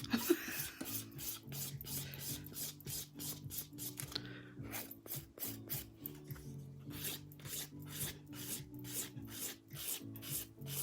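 A nail file works over a fingernail in quick, regular back-and-forth strokes, a close dry rasping with brief pauses and a low steady hum underneath.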